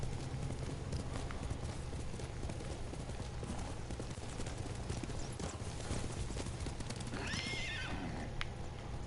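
Video-game horses neigh and whinny over a steady clip-clop of galloping hooves, with a louder whinny near the end, all under continuous game background sound.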